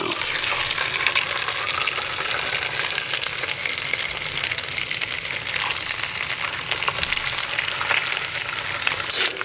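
Trout sizzling in a pan on a stove during a snowy fishing trip, a loud, steady hiss and crackle lasting throughout with no talk.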